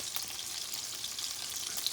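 Meatballs for Italian wedding soup sizzle in a pan, a steady bright crackle with small pops, fairly quiet and close, no talking.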